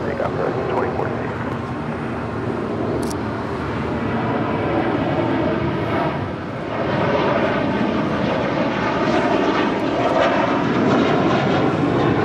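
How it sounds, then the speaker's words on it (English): An American Airlines Airbus A321 jet takes off at LAX, a loud sustained roar of jet engines heard from outside the airport, swelling and shifting in pitch as the aircraft climbs away. "Next departure here on the south side, American Airlines, flight 1315, heading to Atlanta, Georgia, in an A321."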